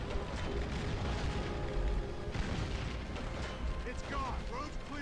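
Heavy explosions and battlefield rumble in Call of Duty: World at War, a dense continuous roar of blasts and gunfire with no letup, loud and close.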